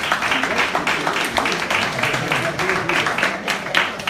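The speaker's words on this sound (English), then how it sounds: "So a round of applause to them" An audience at a live event claps in steady, dense applause, close and sustained for several seconds, with voices mixed in underneath.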